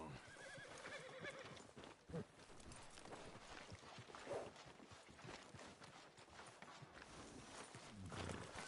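Horse being tethered in the video game Red Dead Redemption II, with whinnying and clip-clopping hooves amid a busy town ambience, the sounds continuous and moderately close.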